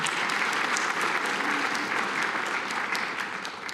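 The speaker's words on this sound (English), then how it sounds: "So let's give them a big round of applause." An audience at a breakfast event gives a loud, steady round of applause that fades slightly at the end.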